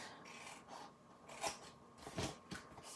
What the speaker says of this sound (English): I'm going to remove this corner and cut